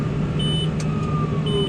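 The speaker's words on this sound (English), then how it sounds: "I'm so sick and tired of the beeping." Farm equipment working on a wheat farm during harvest sounds a repeated electronic warning beep in two steady tones over the constant drone of an engine in the cab.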